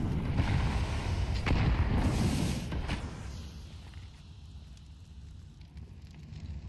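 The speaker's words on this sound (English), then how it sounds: "It's a nice banked nade" In Counter-Strike, a banked frag grenade goes off with a loud, rumbling blast that decays into crackling debris and fades to quiet room tone over a few seconds.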